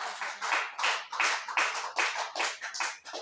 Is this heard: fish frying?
no